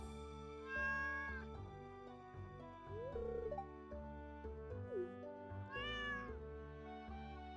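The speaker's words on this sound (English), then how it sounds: "Seen this cat here?" A cat in the farming video game Stardew Valley meows several times in short, drawn-out cries, clear and upfront over soft, steady game music.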